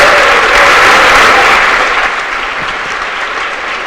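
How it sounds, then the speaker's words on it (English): An audience at an award ceremony gives a loud, dense round of applause, sustained for a few seconds before thinning slightly toward the end. "give a huge round of applause to our ABC boosters"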